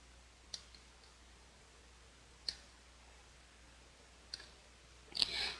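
A computer mouse clicking during image editing in Photoshop: four faint, sparse clicks spread over a few seconds in a quiet room, the last one slightly louder.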